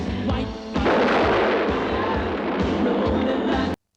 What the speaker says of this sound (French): En plus, la mine, elle explose.